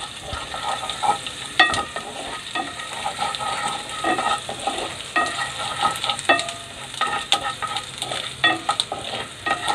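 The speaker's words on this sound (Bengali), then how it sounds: "বাটারের মধ্যে আমি দিচ্ছি রসুন" Chopped garlic frying in butter in a pan for a chicken dish, a steady close sizzle with scattered crackles and occasional stirring scrapes throughout, no talking.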